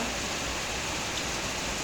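A heavy downpour is heard from a balcony as a dense, unbroken roar of falling rain, with no one speaking.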